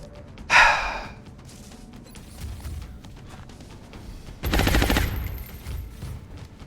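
Alien gunfire aimed at a soldier in the strategy game XCOM Long War, two short bursts of rapid shots separated by a quiet pause, with a gasp-like burst near the start.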